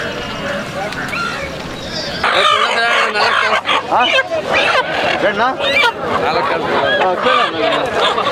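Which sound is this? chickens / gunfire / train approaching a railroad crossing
chickens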